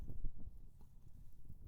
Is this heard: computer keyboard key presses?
no